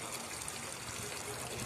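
Water runs steadily over a Bandog puppy, a continuous soft splashing trickle, close and fairly quiet, with no talking.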